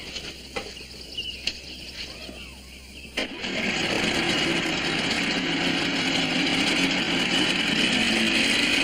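A boat engine on a 1950s underwater patrol show cranks with a sharp catch and settles into a loud, steady drone that runs on to the end, with a voice heard before it starts.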